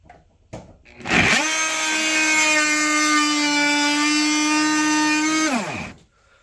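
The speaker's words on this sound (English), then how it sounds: "now we have the Diablo carbide versus standard wood." Oscillating multitool fitted with a Diablo carbide blade cuts into wood, a loud sustained buzzing drone of about five seconds, with short taps before it starts and a quick wind-down at the end.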